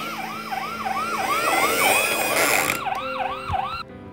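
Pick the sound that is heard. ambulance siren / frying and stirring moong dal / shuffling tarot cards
ambulance siren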